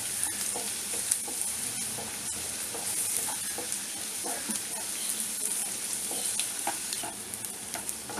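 Onion and tomato crackle in a spiced oil tempering with salt, giving a busy close sizzle with frequent small pops and stirring scrapes throughout.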